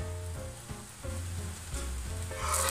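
A Pakistani paratha sizzling on a hot pan as ghee is spooned over the top, a steady close crackling fry with a few soft scraping touches, no talking.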